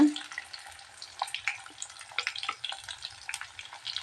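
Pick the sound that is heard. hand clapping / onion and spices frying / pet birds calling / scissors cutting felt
onion and spices frying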